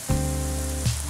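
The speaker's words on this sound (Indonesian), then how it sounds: "Kita panaskan minyak, lalu kita goreng sampai kira-kira 1/3 matang atau sekitar 3 menit" Potato fries sizzle steadily in hot oil in a home kitchen, a dense, constant crackling hiss with a fresh surge as more pieces seem to drop in near the end.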